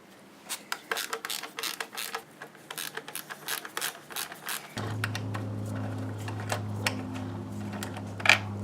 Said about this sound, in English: I'm going to move the skid plate out of the way by removing some bolts at the front and on the bottom of the plate.